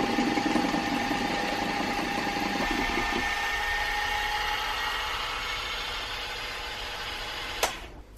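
An electric mixer whirring steadily through orange tray cake batter, a continuous close mechanical hum that tapers toward the end and stops with a brief clunk.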